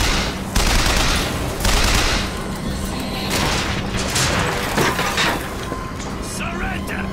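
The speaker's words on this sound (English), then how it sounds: "Not sure where I'm getting shot from up there." Gunfire in the video game BioShock Infinite comes in dense, loud bursts and booms, with several volleys crowding one another and a voice faintly heard at times.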